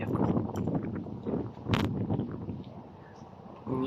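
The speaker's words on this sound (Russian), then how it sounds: "На улице сильный ветер." Strong evening wind buffets the microphone on an empty street, a low, gusty roar that rises and falls in waves, and a voice comes in briefly at the end.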